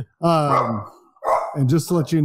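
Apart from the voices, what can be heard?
French bulldog barking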